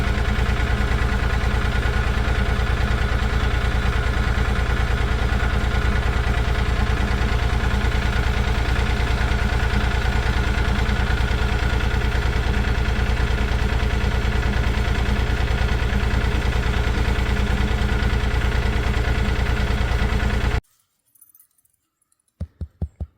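A tractor's diesel engine idles with a steady, rumbling drone for about twenty seconds, then cuts off, leaving near silence and a few faint clicks.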